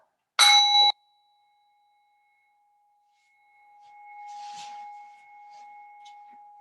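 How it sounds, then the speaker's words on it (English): A yoga meditation bell is struck once, giving a bright ring with a long sustained tone that fades slowly, followed by a soft breathy rustle as the tone lingers in a quiet room. "The sound of the bell will take us in and bring us out."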